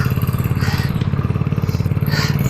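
Motorcycle engine on a first ride at night in the rain, a steady loud pulsing idle-like drone with regular rhythmic throbbing throughout.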